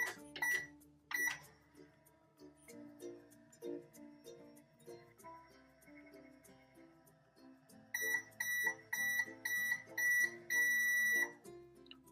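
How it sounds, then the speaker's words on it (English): A toy microwave runs with a soft electronic hum and bursts of repeated bright beeps and chimes, loudest at the start and again in a rapid string near the end, with small plastic clicks between. "Into the microwave."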